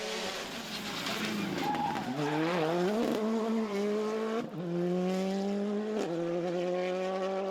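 A rally car's engine screams at high revs during the 2022 Ypres Rally in Belgium, the pitch climbing and dropping sharply through gear changes, loud and close with brief tire noise.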